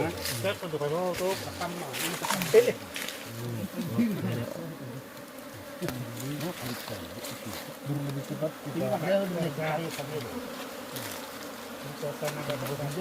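Honey bees buzz steadily at a beekeeping hive just after the queen is placed inside, a dense close drone running throughout while a person speaks over it.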